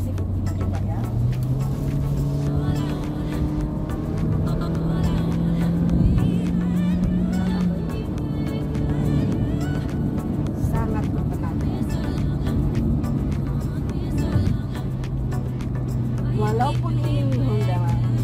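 A Honda City being driven with paddle shifters, engine humming steadily with pitch rising through each gear and dropping at shifts, heard from inside the cabin with someone talking over it.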